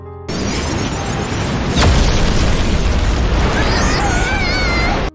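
A loud, sustained roaring blast from a dragon's fire-breath attack being turned back by a spell in an anime fills the clip, swelling near the start with a rumbling boom and fading into hissing, whistling debris before cutting off.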